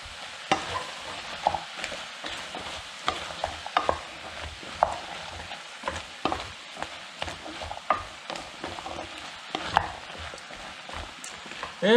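A spoon stirs a lentil and bacon potage in a pot, with close scraping and clinking strokes over a soft sizzle and a steady irregular rhythm.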